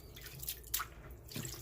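Water dripping from freshly washed sea moss, a few soft, close drips and splashes against quiet background.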